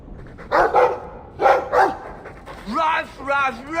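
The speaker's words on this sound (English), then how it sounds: "I like the doggy." A dog in the fantasy role-playing game Dragon Age 2 barks in two quick pairs of sharp barks, close and loud. Softer whining, yelping calls and mixed voices follow.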